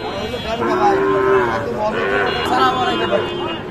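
A Sahiwal bull calf moos loudly and up close at a busy cattle market, drawn-out lowing calls rising and falling over about four seconds, with crowd chatter and voices in the background.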